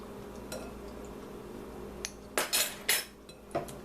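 Utensils click and scrape against a bowl while melted butter and vanilla extract are stirred together, a few sharp clinks standing out over quiet background hiss.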